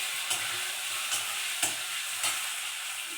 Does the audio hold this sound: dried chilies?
yes